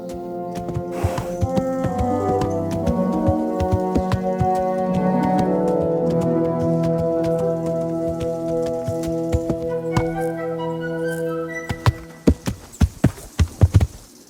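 Horse hooves in Kingdom Come: Deliverance II strike the ground in a short run of sharp, distinct clip-clops near the end, following a stretch of orchestral game music.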